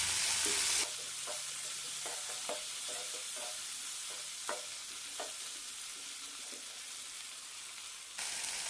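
Spices with turmeric powder are stirred in a hot pan for a potato curry: a soft, steady frying hiss with a series of light, irregular utensil taps and scrapes close by.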